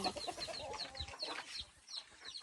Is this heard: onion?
no